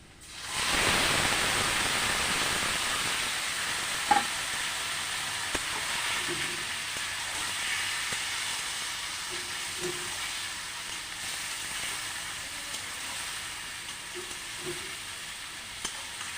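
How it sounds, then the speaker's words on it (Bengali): Country chicken pieces added to fried onions in a hot pan, setting off a loud, dense, steady sizzle that hisses on close by, punctuated by occasional clinks and scrapes of stirring. "পেঁয়াজটা ভাজা হয়ে গেল আর মাংসটা ছেড়ে দিন"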